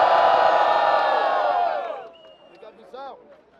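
Loud crowd cheering and shouting at a freestyle rap battle semifinal, a sustained roar that fades after about two seconds, leaving scattered whoops and a few individual shouts.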